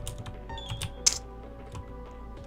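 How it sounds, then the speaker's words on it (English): Someone types on a Black Widow mechanical keyboard. Scattered, irregular clicky keystrokes sound close but fairly quiet, with one sharper clack standing out and no speech. "I have a Black Widow mechanical keyboard"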